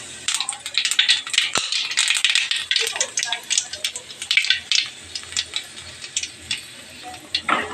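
Nigella seeds dropped into hot mustard oil in a wok, a close, bright crackling sizzle with a rapid irregular pattern of small pops, while a person speaks.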